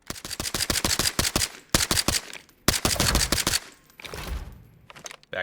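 Rapid pistol fire in the shooter game Arena Breakout Infinite comes in close, loud bursts of sharp cracks separated by short pauses, followed by a brief mechanical reload rattle.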